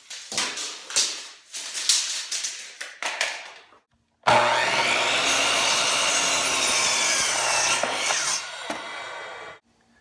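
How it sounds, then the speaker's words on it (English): A saw cuts through an 80-inch 2x6 wooden board. Several short, rough strokes come first, then a loud, steady, continuous cutting run lasts several seconds before stopping abruptly. "we're going to cut our two 80-inch long 2x6 first"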